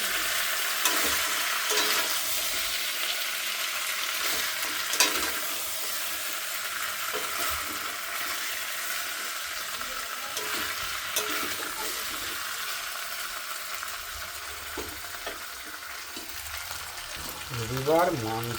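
Chicken frying in a pan, a steady broadband sizzle that carries on for the whole stretch, with occasional stirring scrapes and a brief clatter near the end.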